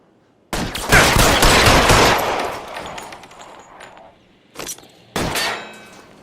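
Bursts of gunfire from a shootout in the video game L.A. Noire: a loud sustained volley of rapid shots, then a pause and two shorter separate bursts near the end.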